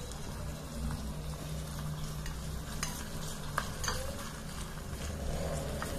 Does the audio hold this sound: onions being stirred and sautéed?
yes